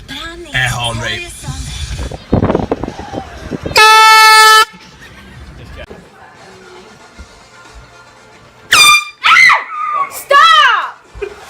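Air horn blasted as a prank, with a loud sustained blare followed by screams and shouting. Further short horn bursts mix with yelling voices, all close and very loud.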